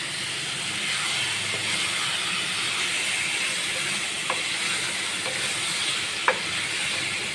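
Steady broadband sizzling and hissing of beef frying with garlic-ginger paste in a pot, continuous throughout with a couple of faint clicks of stirring.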